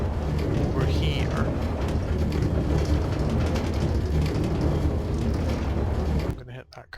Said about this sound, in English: This is lower speed rail.